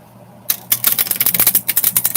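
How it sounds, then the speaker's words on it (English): A deck of thin, skinny affirmation cards is shuffled up close, producing a quick run of crisp, rapid riffling flicks that start abruptly and continue in uneven bursts, loud against a quiet room. "I don't think you can shuffle them though. They shuffle."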